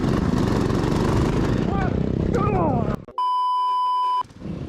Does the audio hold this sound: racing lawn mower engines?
yes